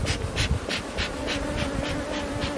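Honeybees buzz close around hive frames lifted out while making an artificial swarm, a dense droning hum that pulses in quick waves with no talking.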